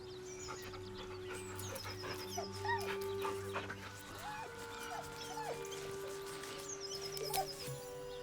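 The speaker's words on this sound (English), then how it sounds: "The dog whimpers nervously" A dog in the video game Baldur's Gate 3 whimpers nervously, repeated thin high whines and soft yips spread across the scene, quiet over a faint ambient background with a low hum.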